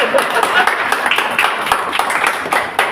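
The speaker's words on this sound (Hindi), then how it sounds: "आप ताली तो बजा सकते हो ना, बजाओ तो दिखाओ" An audience at a foundation meeting clapping in a loose, uneven rhythm, with individual sharp claps standing out close by over a steady patter of hands.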